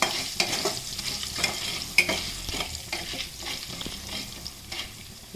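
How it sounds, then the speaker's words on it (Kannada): Chana dal and urad dal sizzle steadily in hot oil for a South Indian tempering, a close, continuous crackling fry broken by scattered sharp pops and stirring scrapes, with no talking. "ನಾನು ಅದಕ್ಕೆ ಕಡಲೆಬೇಳೆನೂ ಉದ್ದಿನಬೇಳೆನೂ ಎಲ್ಲ ಒಗ್ಗರಣೆಗೆ ಹಾಕ್ತಾಯಿದ್ದೀನಿ"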